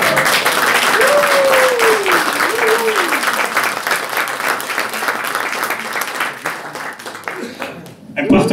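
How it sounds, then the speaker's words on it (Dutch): An audience at a CD presentation applauds, a dense, sustained wash of clapping that carries on for several seconds, with a voice speaking over it early on as the clapping slowly thins toward the end. "Nog een groot applaus."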